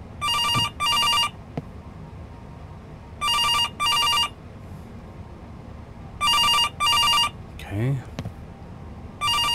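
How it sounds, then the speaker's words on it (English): A telephone rings in repeated double bursts inside a horror video game, loud and close, with pauses between each pair and a person briefly speaking over it. "Oh, where's the phone at? You hear it louder in here."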